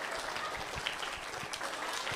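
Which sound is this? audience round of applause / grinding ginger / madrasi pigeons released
audience round of applause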